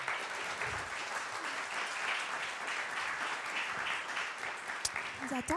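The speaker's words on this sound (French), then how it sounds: "vous pouvez les applaudir" An audience applauds at the close of a seminar presentation on emotional marketing, a sustained even wash of clapping from a sizable crowd that runs throughout, with faint voices mixed in near the end.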